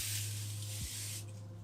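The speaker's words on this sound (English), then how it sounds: "Just spray a little bit on there" Disinfectant is sprayed from a bottle onto a drawing tablet in a broad, steady hiss that lasts about a second before cutting off, close and quiet over a low electrical hum.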